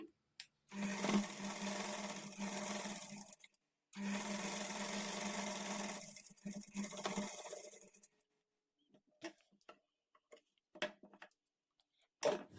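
A sewing machine runs two bursts of fast close stitching along a double-folded kurti hem, separated by a brief pause, then falls to scattered faint clicks and handling noises.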